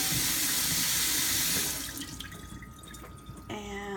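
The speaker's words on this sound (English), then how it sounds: "we're going to rinse the nuts" Tap water running into a sink while soaked nuts are rinsed for homemade nut milk, a steady broadband rush that thins partway through, followed by a brief clatter near the end.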